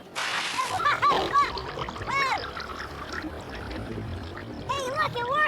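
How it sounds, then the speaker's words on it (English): Flood water from a model of a breaking ice dam splashing and pouring, with bursts of gushing and sloshing under a narrating voice. "Enormous floods scoured the volcanic landscape, displacing tons of rocks and soil as the water flowed westward to the sea"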